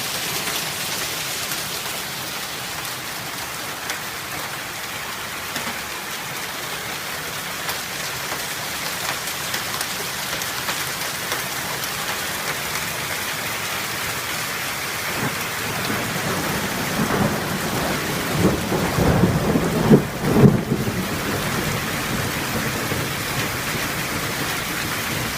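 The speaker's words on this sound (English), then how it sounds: "it is really hailing," A heavy hailstorm batters the surroundings with a dense, continuous roar of hailstones and rain, and thunder rumbles low and swells louder near the end.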